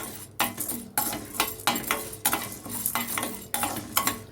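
Dried prawns roast in a pan with a little oil, stirred in regular scraping strokes about twice a second, each sweep bringing a burst of dry rustle and faint sizzle, with light metallic clinks between.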